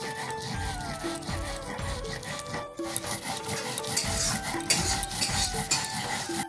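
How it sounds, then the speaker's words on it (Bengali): Chillies being ground by hand on a grinding stone, a steady rhythmic scraping and rubbing of stone on stone, close and fairly loud, with repeated back-and-forth strokes and no talking. "অল্প অল্প করে সম্পূর্ণ লঙ্কা বেটে দিব"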